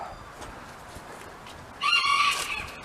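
Bantam chickens cluck softly in a pen before a rooster bursts into a loud, close crow near the end.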